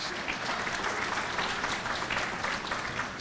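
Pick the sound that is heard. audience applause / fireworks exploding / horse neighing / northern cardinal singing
audience applause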